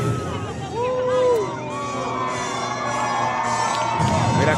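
A crowd at the 2017 Joint Base Andrews Air Show cheers and whoops for a Golden Knights parachute jumper, with loud sustained shouting and scattered voices from many people outdoors.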